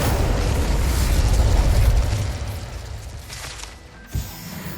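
A fire spell cast in the video game Hogwarts Legacy erupts with a loud, roaring whoosh of flame that rumbles for about two seconds and then fades, followed by a small, sharp pop near the end.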